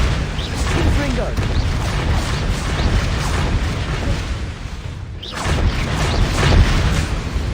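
A Confringo blasting spell explodes in Hogwarts Legacy, as a loud, sustained rumbling boom and crackle. It fills the clip, with a brief dip near the end before the rumble swells again.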